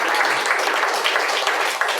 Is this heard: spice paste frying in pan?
no